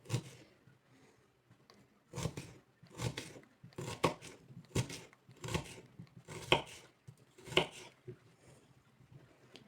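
A knife finely chopping an onion on a cutting board, the onion's root end left uncut to hold it steady; a run of sharp, fairly even knocks repeats about twice a second, close and clear, with no talking.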